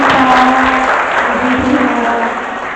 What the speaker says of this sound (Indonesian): Berikan tepuk tangan yang meriah buat adik-adik kita.